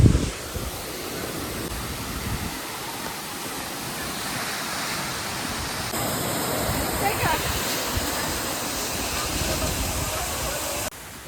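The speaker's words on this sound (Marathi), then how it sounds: "सवतसडा धबधबा खूप उंचावून पडतो" Savatsada waterfall near Chiplun in the Konkan, falling from a great height during the monsoon, gives a steady broadband roar that continues throughout at moderate level. A voice is heard briefly over it.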